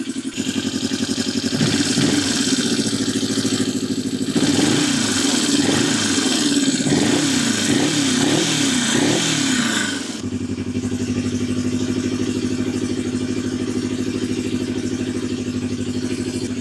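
A Yamaha XS 250 classic motorcycle engine runs steadily close by, rising into several revving surges in the middle before settling back to an even, loud idle.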